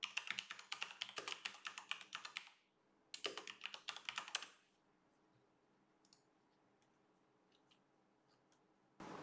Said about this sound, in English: Let's type it here.